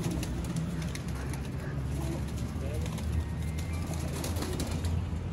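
Sialkoti flying pigeons coo softly in a loft, the low repeated calls sitting under someone talking throughout.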